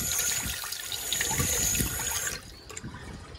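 Water runs steadily in a clean public toilet in Japan, a continuous splashing flow that is fairly close and loud, then drops to a quieter trickle near the end with no voices.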